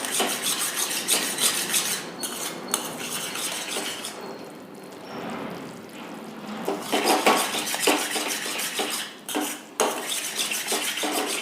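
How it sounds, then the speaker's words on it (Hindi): A spoon scrapes and clinks against a pan as an ice cream mixture with butter or desi ghee is stirred over a low flame, a continuous metallic rubbing that pauses briefly a few times. "लो फ्लेम पर ही हम इसे लगातार चलाते रहेंगे।"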